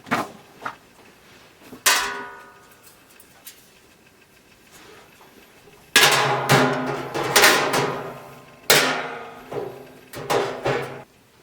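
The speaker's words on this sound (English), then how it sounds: "Put the removable combustion grate on top of the ash pan." A removable metal combustion grate is set onto the ash pan of a smokeless steel fire pit, giving several sharp metallic clanks and scrapes in separate bursts, close and fairly loud, with a quiet stretch between them.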